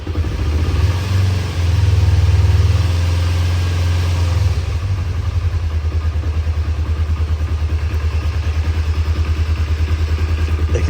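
A Honda 250R motorcycle engine runs after a choked start: a loud, fast idle for a few seconds, then it drops into a lower, choppy, pulsing idle.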